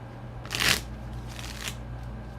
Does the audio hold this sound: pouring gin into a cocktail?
no